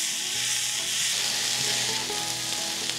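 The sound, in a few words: onion frying with salt in a pan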